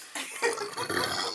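A burp that comes along with a bout of hiccups: a short, close, guttural eructation of about a second, loud and alone with no talking.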